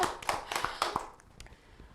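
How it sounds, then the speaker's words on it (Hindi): An audience at a community meet-the-icon event claps in a quick, scattered burst that thins out and fades within a couple of seconds. "एक और जोरदार से ताली हो जाएगी।"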